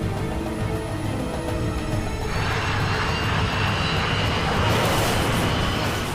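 KLM jet airliner bearing down on the runway at nearly 200 miles an hour, a loud continuous engine roar that swells and brightens into a broad rushing hiss as it closes in.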